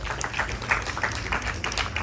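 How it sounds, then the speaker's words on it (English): An audience at a Ganesh Chaturthi festival night breaks into brief, steady applause, a dense patter of many hands clapping together in a hall for a couple of seconds. "Please clap for them."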